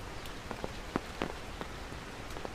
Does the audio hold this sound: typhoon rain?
yes